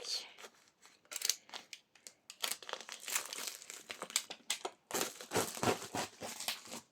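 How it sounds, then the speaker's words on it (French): Cardboard and plastic packaging crinkling and rustling as a large parcel of craft supplies is cut and opened by hand, with irregular bursts of crumpling, tearing and scissor-like snips close by, steady throughout. "On va finir par y arriver à ouvrir ce colis."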